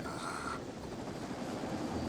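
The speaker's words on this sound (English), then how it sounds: "here we got some helicopter action" A helicopter flies in a film scene, a steady broad rotor roar and rumble that sounds close and continuous, with a brief higher tone fading out early.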